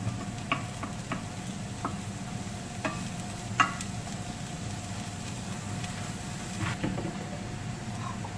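Onion frying in a pan, a steady soft sizzle running throughout with occasional light clicks and scrapes of stirring, close and alone without talk.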